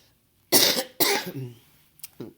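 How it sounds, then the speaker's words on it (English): Two sharp, close coughs in quick succession, followed by a couple of softer throat sounds. "I swear I'm getting over this cough."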